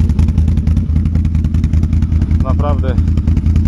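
A 2024 Can-Am Outlander XXC 1000 ATV engine pulses nearby with a deep, rhythmic throb and some clatter. Someone speaks briefly over it.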